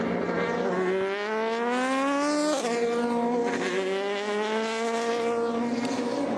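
Race cars scream past during free practice at the 2020 24 Hours of Le Mans, their engines whining and climbing through the gears, with one car fading as another rises close by.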